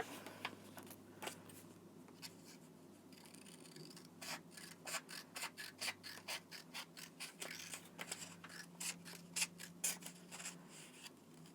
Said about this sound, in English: we'll remove the paper and cut off any excess.